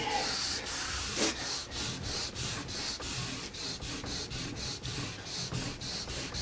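Wax rubbed onto a ski base for a race run, a quick series of rhythmic scraping strokes, close and fairly quiet, repeating steadily.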